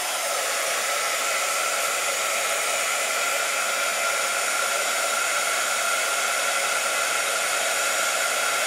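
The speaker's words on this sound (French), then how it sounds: "à l'aide du pistolet d'air chaud, ça fait un peu de bruit" Heat gun blowing hot air to warm a workpiece from both sides: a steady, loud, close rushing whoosh of fan and airflow that runs unbroken from start to finish, alone with no talk.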